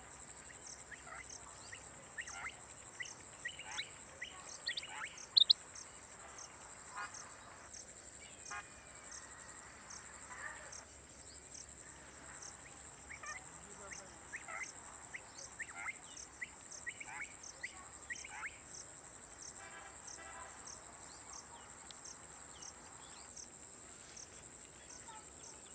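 Female rain quail calling in repeated short chirps spaced across the recording, faint against a steady high insect-like hiss and a quiet outdoor background.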